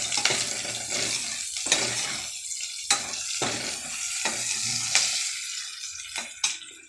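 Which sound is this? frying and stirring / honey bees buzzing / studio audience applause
frying and stirring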